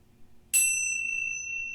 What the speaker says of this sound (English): by chiming the bells